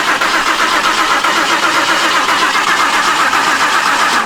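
A Saleen Mustang engine with its fuel injectors unplugged cranks steadily in a loud, close, rhythmic churn that sounds on the verge of catching.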